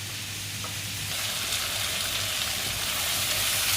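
Vegetables sauté in a hot pan for a sweet and sour chicken dish, a steady close sizzle and hiss that swells slightly louder partway through, with faint stirring and no talking.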